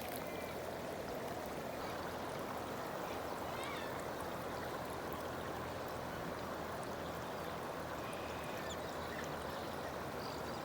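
Floodwater streams past in a continuous, broad rushing wash, steady and fairly close, with occasional faint bird-like calls above it and no talking.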